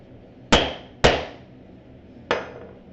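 A hammer strikes a punch through a messenger bag, three sharp, close blows: two in quick succession, then a pause and a third, each ringing briefly before fading.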